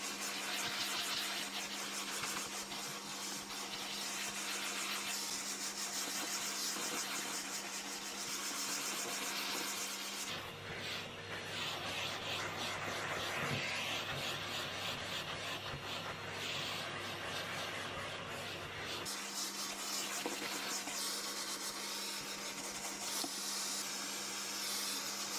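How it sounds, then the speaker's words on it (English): A vacuum cleaner hoovers a long-tailed plush toy indoors, its steady motor drone running loud throughout and shifting to a harsher, rougher pitch midway as the nozzle works the fabric, then settling back. "I'm going to give him a hoover now so that he's ready to go back on the shelf."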